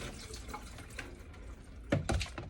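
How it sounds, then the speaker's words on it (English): A basket is rinsed under a running sink faucet during lab disinfection work, a brief close splash of water that swells toward the end with a few sharper splashes. "So I'll just give this basket another rinse."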